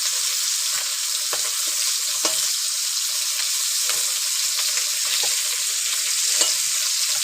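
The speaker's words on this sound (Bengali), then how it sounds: "তো চলো বন্ধুরা, মাছটা ভাজা হোক" Tengra fish frying together in a pan of oil, a steady close hiss of sizzling with scattered small pops and crackles throughout.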